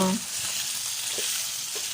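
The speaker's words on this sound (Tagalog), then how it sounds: "Hahaluin lang naman natin ng kaunti." A spoon stirs pata paksiw, a pork hock stew, in a pot, making soft scraping strokes over a steady bubbling hiss. The sound is close and brief, with no talking.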